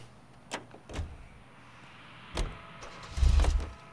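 A car door in the video game L.A. Noire, with a few soft clicks and handling sounds leading to a louder door thump and a low rumble as someone gets into the car, close and clear, with no talking.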